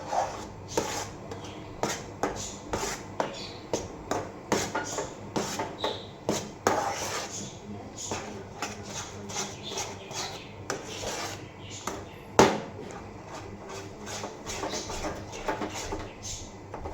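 Ground peanut powder is worked quickly into a thick mixture in a pot for peanut brittle, making repeated rhythmic scraping and rubbing strokes of a spoon against the metal, close and steady with one sharp clank.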